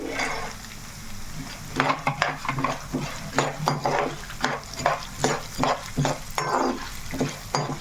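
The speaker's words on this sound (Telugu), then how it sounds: "ఇదిగోండి మనకి చక్కగా లైట్గా అలా వేగుతున్నాయి కదా" Cumin seeds and peanuts roast in a pan for bitter gourd spice powder, a soft crackling sizzle under a quick series of spatula scrapes and taps against the metal, close and rhythmic with no speech.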